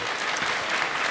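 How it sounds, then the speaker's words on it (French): An audience applauding, a dense, even wash of clapping from many hands, filling the space without pause and with no voices on top. "on peut les applaudir."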